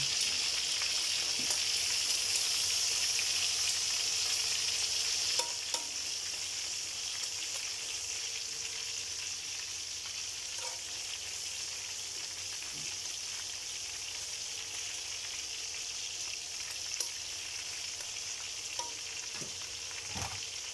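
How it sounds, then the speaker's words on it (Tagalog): Garlic and onion sauté in a hot pan for a chicken dish. The sizzle is steady and close throughout, brighter and louder for the first five seconds, with occasional soft clicks of stirring. "Lagay natin yung bawang guys. Isabay na rin natin ang sibuyas."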